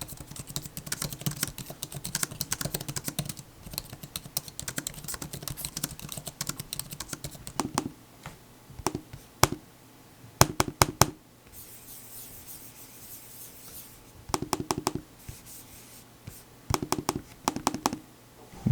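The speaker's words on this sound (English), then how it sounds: "the buttons of the trackpad and the buttons themselves, are pretty clicky" Keys and trackpad buttons on a Samsung Galaxy Tab S7 Book Cover keyboard click in quick bursts, first as dense steady typing and then as sparser separate clusters of sharp, close taps, with no talking.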